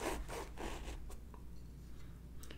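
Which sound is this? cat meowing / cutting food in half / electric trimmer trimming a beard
cutting food in half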